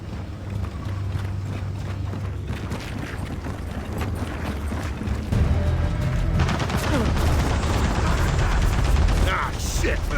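Automated turret gunfire in Gears of War 4, a dense rattling stream of rapid shots building and growing louder midway, with game noise and voices underneath.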